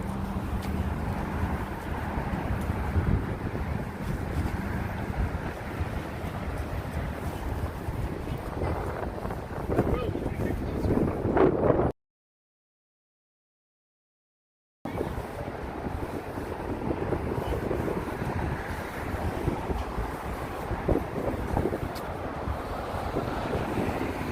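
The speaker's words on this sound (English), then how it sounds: "It is a little windy" Steady wind buffets the microphone along the East River Greenway in New York City, a continuous rushing roar with a brief silent gap partway through.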